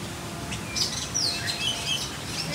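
Small birds chirp and tweet in repeated short, bright calls at moderate distance, several overlapping phrases against a steady low outdoor rumble, with no talking.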